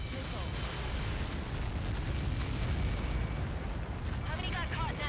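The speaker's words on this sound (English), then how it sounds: "How many got caught in that explosion?" A massive impact explosion from the Ace Combat 7 video game, a continuous heavy roaring rumble lasting several seconds, with faint radio chatter surfacing near the end.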